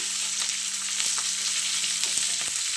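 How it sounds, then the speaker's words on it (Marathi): Green chilies sauté on a hot griddle in a steady, close sizzle, with a few light stirring scrapes and no talk. "आता मिरच्या घालायच्या आणि छान असं आपल्याला परतून घ्यायचं आहे"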